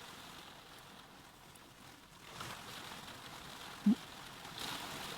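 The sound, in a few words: heavy rain falling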